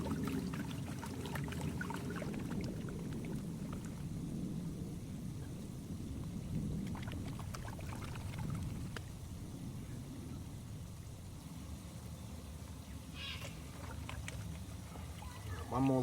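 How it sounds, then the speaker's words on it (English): Water pours and washes steadily over the top mat of a high banker gold-prospecting sluice beside a creek, a continuous low rushing wash lasting throughout with a few faint clinks near the end. "now I'm going to wash out the top mat of the high banker"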